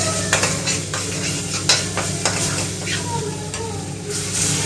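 Spices sizzle and fry in a pan for a gravy, with a steady close hiss broken by repeated scraping stir strokes of a spoon against the pan.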